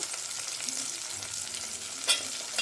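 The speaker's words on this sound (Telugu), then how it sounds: "పచ్చి వాసన పోయే వరకు ఫ్రై చేసుకోవాలి" Masala sizzles and fries in hot oil in a pan while making kichdi, a steady bright crackle with a brief louder spatter near the end, no voices.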